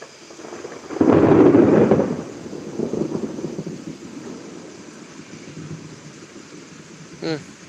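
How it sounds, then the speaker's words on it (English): During a thunderstorm in Pittsburg, Kansas, a heavy roll of thunder rumbles loudly for a couple of seconds, then fades into a lingering low rumble over steady rain-like noise. "Got some nice lightning there."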